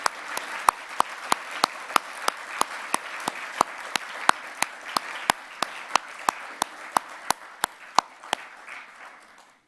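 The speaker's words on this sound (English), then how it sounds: "but I think a round of applause" Sparse applause at an education conference after morning worship, sharp individual claps standing out in a regular, fairly close rhythm over a soft wash of further clapping that fades near the end.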